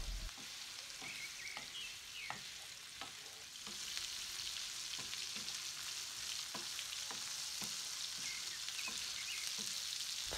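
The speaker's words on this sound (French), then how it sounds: "Ajoutez ensuite une cuillère à soupe de beurre pour plus de goût et faites cuire de tous les côtés." Meatballs frying in butter in a pan, a steady close sizzle with scattered pops and occasional stirring, growing slightly louder partway through, no voices.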